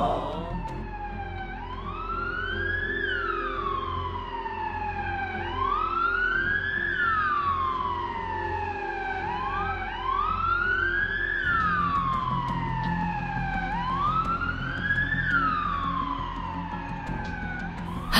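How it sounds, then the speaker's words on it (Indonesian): An ambulance siren in a video game wails in repeated rising-and-falling sweeps, loud and continuous over a low engine rumble. "Mia, Mia, aku akan memasukkan korban ke dalam ambulan ya"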